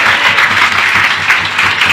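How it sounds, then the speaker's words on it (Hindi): An audience at a Hindi-language Christian sermon gives loud, dense applause, with a sustained wash of many hands clapping throughout. "तालियां मत बजाइए।"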